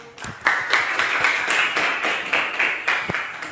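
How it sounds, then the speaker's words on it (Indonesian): A class claps for a student group after their presentation in a long-jump athletics lesson. The applause is dense and near, with sharp individual claps that swell and ease in short waves for a few seconds. "Kasih tepuk tangan dulu."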